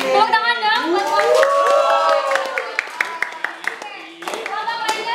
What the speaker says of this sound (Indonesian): Oke, tepuk tangan dong buat kamu.